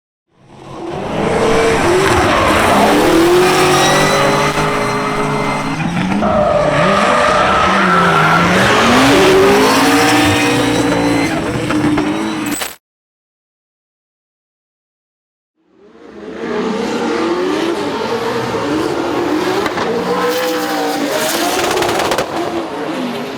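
A Toyota GT86 drifts on the Val de Vienne race track at a 2023 drift championship final, its loud engine roaring under long, continuous tire squeal. The sound cuts out briefly, then returns with more squealing, revving and skidding.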